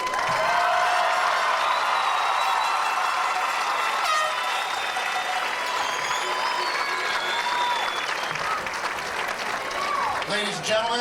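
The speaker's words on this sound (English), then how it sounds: "How about a round of applause for our graduates?" Sustained applause from a crowd fills a 2003 high school graduation ceremony, loud and continuous clapping with cheering and whistles throughout.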